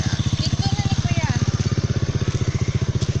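A motorcycle engine chugs steadily during a ride, its rapid regular pulses loud and close throughout, with faint background noise but no talk.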